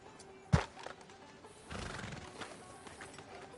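A horse in a Western video game whinnies once with a sharp burst, then its hooves clip-clop steadily nearby at a moderate level.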